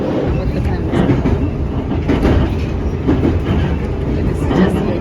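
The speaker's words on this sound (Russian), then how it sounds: "Это сейчас я еду метро, но оно надземное, да, эта часть надземная." An above-ground Moscow metro train heard from inside a carriage while riding: a steady, loud rolling rumble with rhythmic wheel clatter and rattling that continues throughout.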